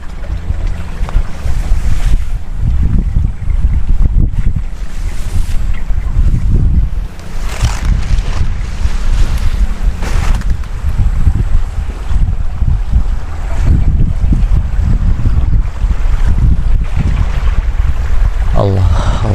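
Strong wind gusting hard across the microphone outdoors near open water, a loud continuous rumbling buffet with surging gusts throughout.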